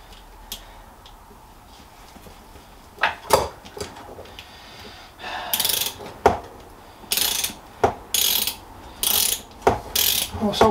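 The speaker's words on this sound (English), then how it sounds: "this chain whip is awful compared to the other one" Bicycle rear wheel sprocket being worked with a chain whip and tool, giving loud repeated ratcheting clicks and bursts of freewheel ticking in irregular clusters, close and clear with no talk.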